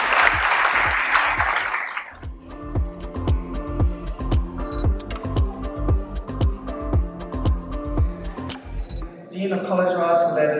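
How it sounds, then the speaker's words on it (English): A crowd at the 11th annual UNITE celebration at the Crockett bursts into loud applause for about two seconds. Upbeat music with a steady, punchy beat follows, then a voice at the end. "I think that deserves a round of applause"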